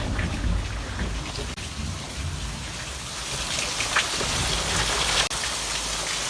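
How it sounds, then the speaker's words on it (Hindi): Heavy rain pours down in a steady, dense hiss across the whole stretch, loud and close with a low rumble underneath and no voices. "काफ़ी तेज़ हो रही बारिश"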